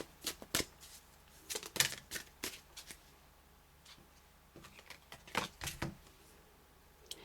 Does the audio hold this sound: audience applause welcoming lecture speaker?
no